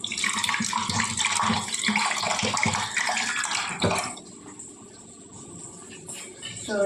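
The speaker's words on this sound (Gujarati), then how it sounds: "હવે મસાલો છે એમાં આપણે થોડુંક પાણી નાખીને પછી રસો કરી નાખીએ." Water pours steadily into a pan of masala for about four seconds, a loud splashing rush that stops abruptly and leaves a quieter sizzle and faint kitchen clatter.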